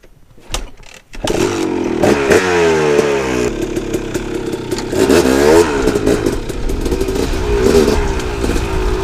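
A dirt bike engine revs hard on a trail, rising and falling through repeated throttle bursts with a loud, raspy buzz, close and alone after a brief clatter at the start.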